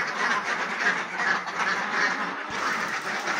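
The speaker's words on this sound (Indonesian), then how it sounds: "Ini entok dan juga bebek kita." Muscovy ducks and ducks quack together in a flock, a dense, continuous chorus of overlapping nasal calls heard close and fairly loud.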